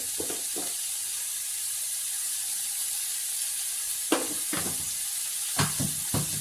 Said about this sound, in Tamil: ஒரு 2லேருந்து 3 நிமிஷம் நல்லா வணக்கிக்கலாம் பீட்ரூட்டை.